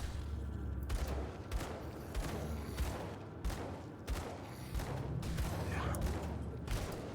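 Rapid bursts of gunfire in the action RPG Grim Dawn as a boss is shot at, repeated loud volleys running continuously over a dense, busy game soundscape with no voices.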